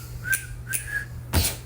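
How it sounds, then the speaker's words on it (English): A person whistles nearby, a few short rising notes with gaps between them, followed by a sharp snap-like click, with no talk. "can you whistle and snap at the same time though?"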